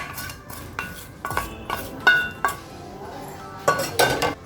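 Poha adai batter is stirred in a bowl with sautéed onion, mustard seeds, curry leaves and urad dal, producing irregular close clinks, knocks and scraping strokes of a utensil against the vessel.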